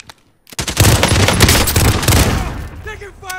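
Rapid automatic gunfire from the video game Call of Duty Warzone, during a Halloween duos match, hammers loud and close in a continuous burst, followed by a voice talking briefly.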